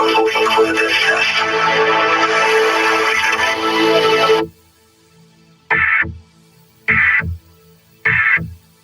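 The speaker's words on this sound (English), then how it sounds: "The following tones will conclude this test." Emergency Alert System test tones: a long loud harsh two-tone attention signal, then three short beeps after a pause, closing a tsunami warning test.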